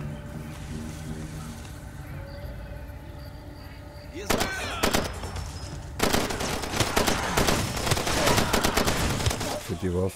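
Heavy automatic gunfire and explosive bursts erupt from a weapon in Far Cry 2 played on Xbox One X, following a few seconds of quieter ambience, then continuing as loud, rapid, overlapping volleys.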